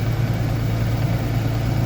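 An LSXR4145C tractor's Tier 4 engine idles at 1100 RPM, a steady low rumble with constant vibration, close and unbroken.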